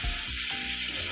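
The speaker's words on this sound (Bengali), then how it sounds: "পেঁয়াজটা একটু গোল্ডেন কালার পর্যন্ত ভেজে নিতে হবে।" Onion frying in a pan gives a short, close sizzle with a couple of soft stirring scrapes, steady and moderately quiet, with no voices.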